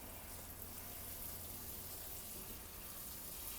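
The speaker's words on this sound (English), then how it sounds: "we're going to go ahead and get these watered in now. Give these a good soaking here." Water pours steadily onto freshly planted coffee seeds in soil, a soft continuous hiss and splash of a thorough soaking, faint and unbroken, with no voices.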